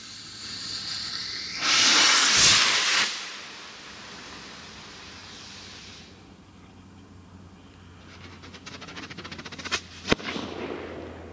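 Strobe firework powder burns at night with a sudden loud rushing hiss lasting about a second, then fading into quiet rustling, a crackling patch and one sharp pop near the end.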